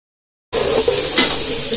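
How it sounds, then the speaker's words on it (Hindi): Onions dropped into hot oil in a pot for aloo matar gosht, with a sudden loud sizzle that starts after half a second of silence and stays steady with light stirring scrapes. "देखिए तेल गर्म हो चुका है, उसमें हम डाल देंगे प्याज,"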